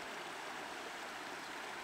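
Creek water flowing near a beaver dam, a steady, faint broadband rush with no breaks, heard alone without voices.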